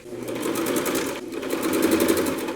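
Walking foot sewing machine stitching a seat repair forward and back, a steady, fast mechanical chatter close by with a brief pause in the middle.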